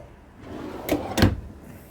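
Two kitchen drawers under the sink in a 2014 Keystone Outback 230RS toy hauler RV sliding shut in quick succession, each ending in a sharp close knock, near and alone against a quiet room.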